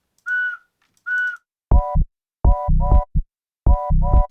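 Whistle-like tones made from the sound of a vape hit come in a syncopated electronic pattern: two short high whistles, then a string of sharp, loud tonal bursts with low thumps in an off-beat rhythm.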